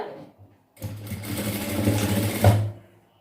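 A sewing machine stitches a chudidhar seam from the sleeve, starting abruptly with a close, buzzing motor whir. It runs for about two seconds and then stops, with no voices over it.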